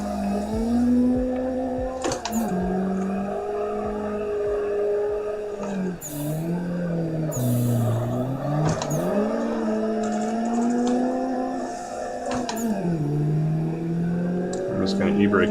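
A Nissan 180SX drifting in Assetto Corsa during a tandem run on a big track: a loud, continuous engine drone rising and falling in pitch with throttle, alongside tyre squeal, with someone talking over it.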